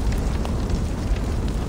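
Fire roars in Assassin's Creed Valhalla, a dense, loud rumbling whoosh that holds steady through the short moment with no voices over it.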